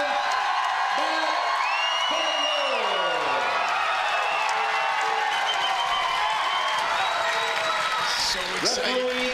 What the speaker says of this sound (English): the crowd is already blowing the roof off of this place